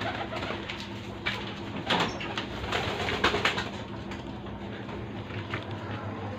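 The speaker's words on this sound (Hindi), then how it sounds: "हमने बहुत सारे कबूतर दूसरे देश से मंगवाए हैं भाई, देख लो भाई सब कबूतर बाहर खुले हुए हैं" Pigeons imported from another country cooing outdoors, soft repeated coos layered over a steady background hum, with a few louder bursts and faint rustling or wing movement, no talking.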